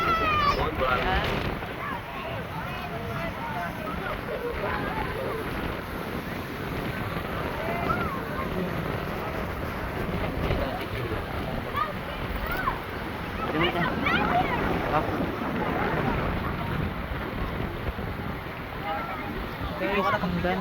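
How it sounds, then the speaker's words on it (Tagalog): Gabaldon Falls in Nueva Ecija pours as a steady, broad rushing roar close by, buffeted by wind on the microphone, with people talking over the water. "dito kami sa Gabaldon Falls"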